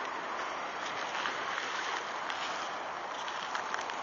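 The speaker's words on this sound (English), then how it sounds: "Might as well wait till the waves come along." High tide waves in a Pokémon Mystery Dungeon: Explorers of Light game wash in a steady, dense hiss of surf that sounds close and constant, with no voices.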